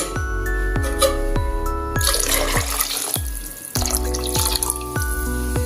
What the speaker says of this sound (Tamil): இப்போ அதை வந்து குக்கருக்கு மாற்றிட்டு இது கூட தேவையான தண்ணி சேர்த்துக்குவோம்